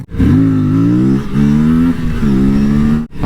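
A new motorcycle engine revs hard and close, its pitch climbing and dipping in three sustained surges before cutting off abruptly near the end.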